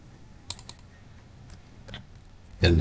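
Fingers type on a computer keyboard while entering an Excel formula: a few faint, scattered key clicks, then a louder final clatter of keystrokes at the end.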